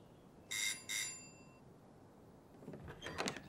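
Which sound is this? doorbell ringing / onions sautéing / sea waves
doorbell ringing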